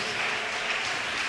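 A church congregation applauds steadily throughout, a dense, continuous wash of clapping with no pause.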